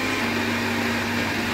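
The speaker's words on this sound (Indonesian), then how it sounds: "tinggal dihalusin aja pakai blender biar cepet dan bener-bener halus" An electric blender runs steadily, grinding a spice paste with coriander powder for a beef dish, giving a continuous, even motor whine with no breaks and no talking.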